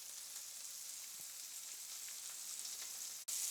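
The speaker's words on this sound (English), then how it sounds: "we got these 2 remaining burgers cooking up" Two burger patties sizzling in a hot pan, a steady close hiss and crackle running continuously with a brief cut near the end, no voices.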